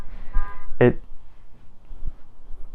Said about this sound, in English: honked their horn while I'm trying to record